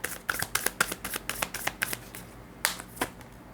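Tarot cards are shuffled by hand in a rapid series of crisp, close flicks and riffles, keeping an even rhythm with a short pause near the end.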